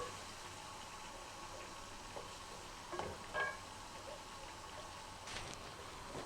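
Chicken with finely chopped green chillies frying in a karahi, a low steady sizzle and crackle running throughout with a couple of brief clinks from stirring, close and fairly quiet.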